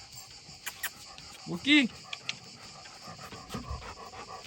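A dog pants excitedly near a parked Toyota 4Runner 4x4, quick close breaths with a short whimpering whine in the middle, while a person speaks briefly.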